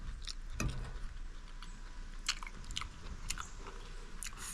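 Close, quiet chewing of brown stew fish with okra, carrot and sweet pepper, soft wet bites and crunches scattered irregularly over a faint background hum.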